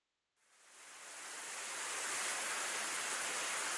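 A heavy water splash effect from the visual novel game Togainu no Chi True Blood: a sudden onset that swells into a loud, sustained rushing wash of water, heard alone with no voices.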